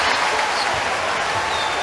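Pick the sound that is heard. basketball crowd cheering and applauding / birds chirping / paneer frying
basketball crowd cheering and applauding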